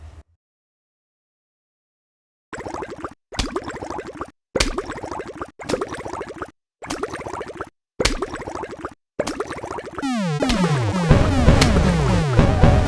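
Short bursts of harsh, garbled electronic noise repeat in quick succession, then a warbling descending tone sweeps into a dense, buzzy digital squeal: a zombie dying in Plants vs. Zombies Replanted.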